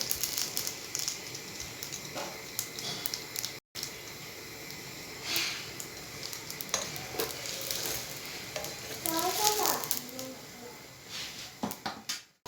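Çiğ börek pastries deep-frying in hot oil, a steady crackling sizzle running throughout with occasional louder pops and bursts of bubbling, close by, with brief dropouts and faint background voice.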